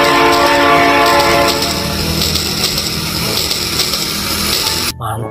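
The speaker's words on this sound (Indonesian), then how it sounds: "di sini ada kereta api Rail King atau kereta api klasik." A Rail King classic toy train runs with a loud, continuous mechanical whir and a sustained horn tone, close by, ending abruptly.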